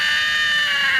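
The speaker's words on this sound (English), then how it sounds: "I think that's the part that gets memed the most when he screams" A man screams in a laughing gas meme, a continuous, loud, strained high-pitched yell that holds steady throughout.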